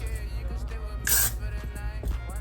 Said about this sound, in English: I'm gonna spray it a little.